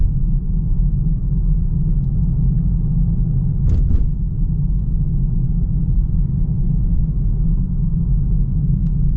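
A 2025 BMW 330i cruises along with a steady, loud low road rumble filling the cabin, broken by one brief faint high tick midway.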